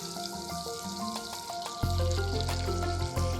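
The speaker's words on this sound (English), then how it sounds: "I'll just go ahead and melt that butter." Irish butter melting in a saucepan, a soft crackling sizzle that swells louder partway through, with gentle background music and no talking.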